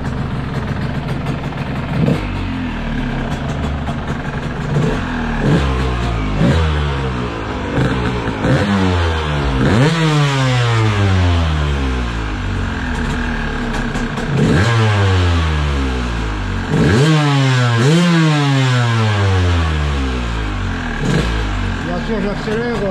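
A Yamaha DTR 125 motorcycle with a rebuilt PWK 34 carburettor bored to 35 starts for the first time, then revs loudly and repeatedly, each rise and fall of the engine close and dominating throughout.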